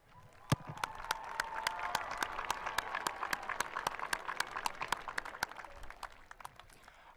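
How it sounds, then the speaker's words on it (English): At a high school commencement ceremony, the graduation audience applauds the parents with sustained crowd clapping, punctuated by loud nearby hand claps at an even pace, swelling then holding steady. "let's give a round of applause for their patience and support."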